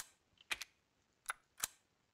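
A few crisp computer keyboard key presses made while gaming with keyboard and mouse: isolated clicks in two close pairs, then a single tap, close and fairly quiet against a soft background.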